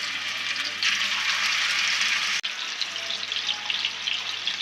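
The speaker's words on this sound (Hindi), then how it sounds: "फिर हम इसमें कबाब डालना शुरू करेंगे" Seekh kebabs frying in hot oil in a frying pan over a medium-low flame, a steady broadband sizzle that holds loud and even, with one sharp momentary break near the middle.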